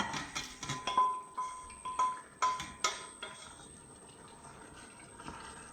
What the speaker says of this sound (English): I'm pouring in the chicken into the stew.